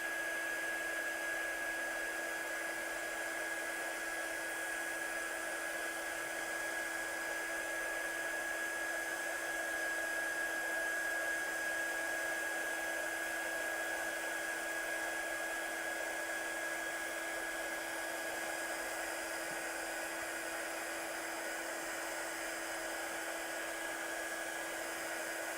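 Heat tool drying and setting a mixed media journal page, a continuous steady hum with a constant tonal whine, held at even volume throughout with no talk.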